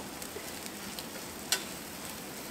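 Eggs frying in a pan for a country breakfast, a steady soft sizzle and crackle running throughout at close range, with one sharper tick or pop midway.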